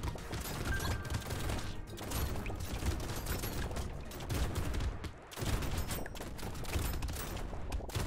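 Rapid, dense shotgun fire in the top-down action game Brotato, blasts overlapping into a near-continuous barrage with only a brief lull, loud and busy with no talking.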